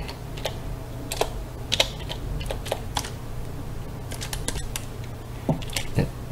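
Keys clatter in irregular bursts as a command is typed on a computer keyboard, the clicks close and fairly crisp over a low steady hum, with no voices.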